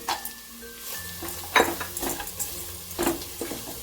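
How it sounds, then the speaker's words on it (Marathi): Garam masala, Kashmiri red chilli powder and cashews frying in a pan give a soft sizzle broken by several scraping stirs of a spoon, close and fairly quiet. "छान हलवून घेऊया"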